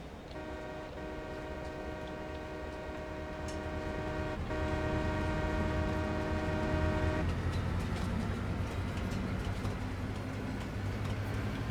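A train in Farming Simulator 22 hauling carrots rumbles steadily, with a sustained multi-tone horn or whistle for several seconds before the low rolling noise swells and continues alone.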